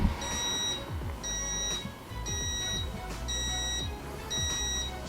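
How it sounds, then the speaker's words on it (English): A Toshiba digital rice cooker signals that cooking is done with a repeating electronic beep, five evenly spaced high tones about a second apart, clear against a low background hum. "if you guys can hear that beeping noise"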